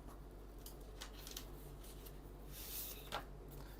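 Faint snipping of scissors cutting paper pieces for a collage roof, a few soft scattered cuts with light paper rustle in a quiet room.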